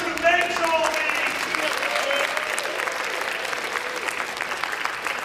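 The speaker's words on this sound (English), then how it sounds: "let's take a second to give a round of applause to the person who makes all these" A live audience at a comedy game show gives a round of applause, a dense, continuous wash of clapping with a few brief voices near the start, holding steady before thinning slightly.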